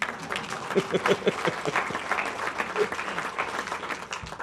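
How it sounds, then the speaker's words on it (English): Steady audience applause fills the room at an event in downtown Bradenton, many hands clapping together at a moderate, even level without a break. "Give yourself a round of applause."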